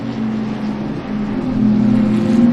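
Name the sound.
race cars on the track, Porsche and Miata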